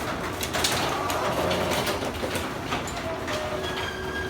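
A Craftsman garage door opener drives the door open with a steady, loud mechanical rumble and rattle, accompanied by a faint motor whine that continues throughout, with no talking.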